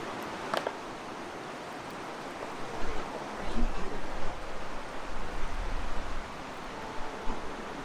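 The Old Man River in the Alberta foothills rushes past a spring campsite, a steady, close, broadband roar of flowing water with occasional low surging swells.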